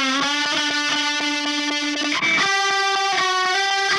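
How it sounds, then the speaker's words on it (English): Electric guitar notes from the Audio Assault Bulldozer amp simulator pulse with a rapid, even tremolo wobble, the chord chopping rhythmically in volume, then shifting to a new chord partway through. "Add a tremolo."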